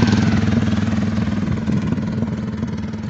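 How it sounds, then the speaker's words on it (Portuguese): Motorcycles ride past close by on a road, a loud steady engine drone with a rapid pulsing rumble, no voices over it. "essa galera de moto, ó"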